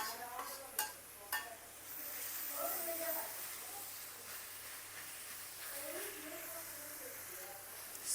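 Onions with chilli powder, coriander powder and turmeric frying in a pan for chicken curry, a steady soft sizzle and hiss throughout, with a few sharp utensil clinks near the start and occasional stirring scrapes.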